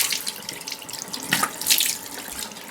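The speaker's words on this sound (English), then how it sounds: "I'm just going to keep splashing water into my face without smearing anything" Tap water splashing at a bathroom sink as someone rinses their face, with steady running water and uneven, irregular splashes close by, no voices.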